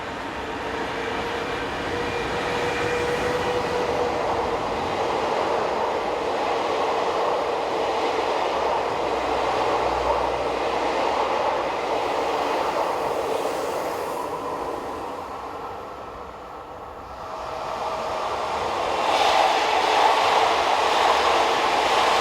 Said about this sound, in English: locos are dedicated to push-pull trains of double-deck stock and work out of Paris Montparnasse to Dreux and Mont-la-Jolie